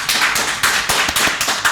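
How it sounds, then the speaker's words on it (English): A single person clapping for themselves, a run of quick, fairly loud hand claps in uneven bursts, close to the listener. "I'm applauding myself."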